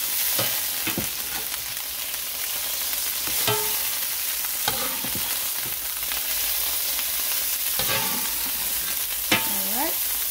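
Liver and pork frying in a pan, crackling in a steady sizzle with occasional sharp scrapes and clacks of stirring spread through the clip, no talking.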